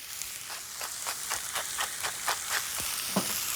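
Zucchini, squash and fresh tomatoes sizzle steadily in a pot, with a run of short scraping clicks from stirring spread across the frying hiss.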